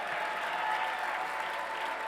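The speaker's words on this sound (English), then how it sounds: "Give John a round of applause." Audience applause at a university press conference, a sustained, even wash of many hands clapping at moderate distance with no break.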